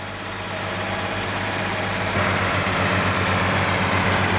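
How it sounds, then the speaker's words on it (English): A tractor drags a forage grass mower across a hay field, a steady heavy engine drone with constant rumbling machinery that grows slightly louder and fuller halfway through, heard close and without voices. "You see how that turn was almost square for the machine, although the tractor went round in a curve."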